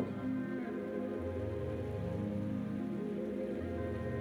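Medium-sized lentil fritters (daler bora) fry in hot oil with a steady, close, rain-like sizzle and crackle that continues evenly throughout, alone and without talk.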